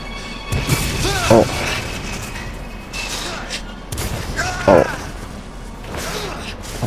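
Explosions and crashing blasts erupt in the Resident Evil remake game, two heavy impacts roughly three seconds apart over a dense, noisy game soundtrack.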